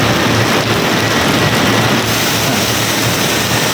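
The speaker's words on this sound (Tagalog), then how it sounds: "Lakas ang patak." Heavy rain falling hard during a thunderstorm, heard from outdoors as a steady, loud, dense hiss and patter that stays even from start to finish, with no voices present.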